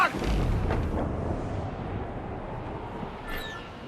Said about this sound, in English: Fire what cannons you will, and land a few strikes if you must.